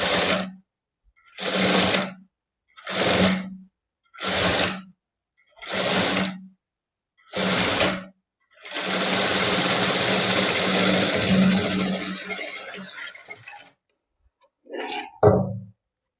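A sewing machine stitches piping on a princess-cut back opening in six short, evenly spaced bursts, then runs one long continuous stretch before two final brief runs, loud and close with no talking.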